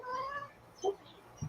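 A cat meows once, a short, close, tonal cry at the start, followed by a couple of fainter, brief sounds.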